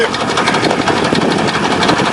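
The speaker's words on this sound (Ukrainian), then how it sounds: "Тут під низом воно витрушує, от, трактор тягне." A tractor pulls a potato digger through a village field, with a steady, loud engine drone and rattling machinery running without a break.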